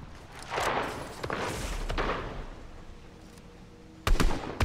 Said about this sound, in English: Some shots going on over here?